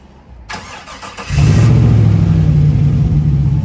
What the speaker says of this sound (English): So one single press of the Clifford remote key, you'll have a couple indicator flashes and then the vehicle will start up.